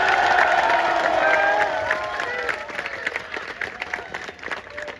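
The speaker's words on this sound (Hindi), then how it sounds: "अपने लिए जोरदार तालियां बजा दो।" A protest crowd at Jantar Mantar claps and cheers loudly, with dense applause and whoops right up close that fade gradually over a few seconds.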